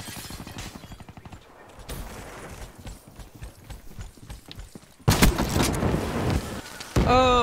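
Gunfire in the Black Ops 3 multiplayer video game, with a soft rhythmic clatter of steps at first, then loud, dense bursts of shooting near the end.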